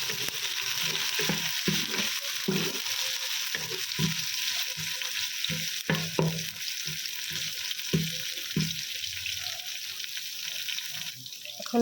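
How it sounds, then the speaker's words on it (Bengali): Garlic and ginger paste spices frying in a pan for bhuna khichuri hiss steadily while a spoon stirs and scrapes in short repeated strokes, close and fairly loud throughout. "এখন আমি মশলাটাকে একটু ভেজে নিব কাঁচা গন্ধ"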